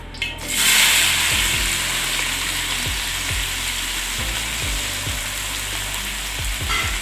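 Small shallots and chillies hit hot oil right after mustard seeds have popped, giving a loud, sustained close sizzle with scattered spatula clinks and scrapes throughout.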